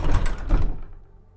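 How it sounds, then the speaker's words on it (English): A car's passenger door makes a dull double thunk as it releases, two low knocks close together followed by a fading resonance, heard close up and alone. "the passenger door unlocked by itself"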